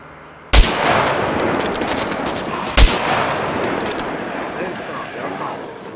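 Gunfire in the survival game SCUM during a city firefight: two loud, close gunshots about two seconds apart, each followed by a long decaying echo, with faint speech in the background.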